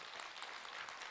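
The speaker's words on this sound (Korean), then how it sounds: "박수로 맞으세요" A gathering at a Korean Buddhist monk's Dharma talk applauds in a brief, even burst of many hands clapping, soft and somewhat distant.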